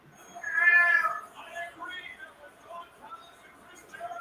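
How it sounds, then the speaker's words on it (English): A cat named Merlin lets out a loud, screaming meow that rises and then trails off, followed by fainter, quieter vocal sounds, with a person talking faintly in the background. "What a cat I just heard, Sam?"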